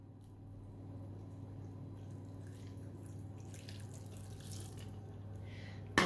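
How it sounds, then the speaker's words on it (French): Boiling water is poured into a Tupperware tajine dish over crumbled chicken stock, prunes and spices, a steady soft running-water stream with a low hum beneath and a sharp knock at the very end. "on va rajouter 100 ml d'eau bouillante"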